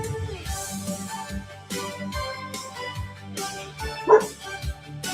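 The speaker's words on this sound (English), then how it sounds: "There's a dog outside." A dog barks outside, with a few separate barks and yips at a moderate distance over music with singing that continues throughout.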